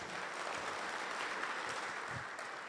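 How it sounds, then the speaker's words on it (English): Applause from an audience at a Philadelphia cybersecurity event greets a keynote speaker, a steady, dense wash of many hands clapping at moderate distance with no one talking. "How about another round of applause for Jessica?"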